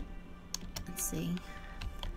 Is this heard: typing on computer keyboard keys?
yes